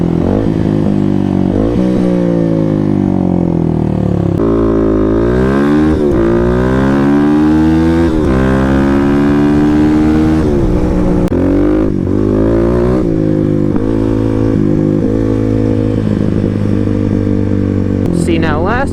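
A Kawasaki KLX300 dual-sport motorcycle ridden at speed through twisty roads, its single-cylinder engine revving up and down through the gears, loud and close, with rushing wind and a voice speaking over it at times.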